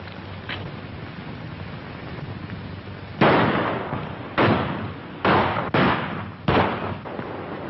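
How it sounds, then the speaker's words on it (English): Gunshots in a shooting contest from a 1936 western, five loud sharp reports spaced irregularly about a second apart over low background hiss, with no talk between them. "All right, you shoot first."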